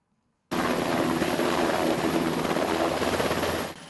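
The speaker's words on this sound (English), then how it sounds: "Arriving at Mate Airport on board an Australian Defence Force helicopter, Prime Minister Vurenge Bainimarama" Australian Defence Force helicopter arriving at Mate Airport, its rotor and engine roar starting abruptly, holding loud and steady for about three seconds, then cutting off.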